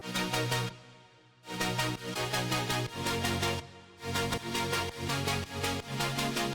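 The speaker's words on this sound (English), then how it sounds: "It's basically a saw chord and it sounds like this." A future bass synth saw chord with an LFO-driven filter, reverb, chorus, distortion and compression, playing loud rhythmic pulsing stabs in two phrases separated by short sustained, darker tails.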